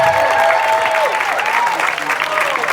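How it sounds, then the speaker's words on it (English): Audience applause at a quilting celebration event, a dense, steady wash of clapping lasting throughout at close range, with voices and chatter mixed in underneath. "give everybody a big round of applause"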